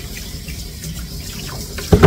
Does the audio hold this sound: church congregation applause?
no